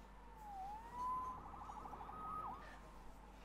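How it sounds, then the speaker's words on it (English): A police siren in a Spider-Man video game wails and yelps in short rising and falling sweeps, fairly clear against a quiet background with no talking. "Saved by the siren."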